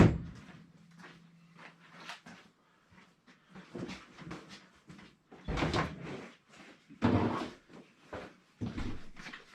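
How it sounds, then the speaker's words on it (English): A 1997 Jeep Wrangler TJ door is unlocked and opened during a soft top job: a series of mechanical clicks, clunks and latch knocks, with a few louder thumps spread across several seconds, fairly close. "Unlock the other door."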